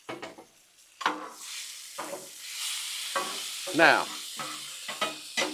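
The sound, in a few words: shrimp and butter sizzling on a Blackstone griddle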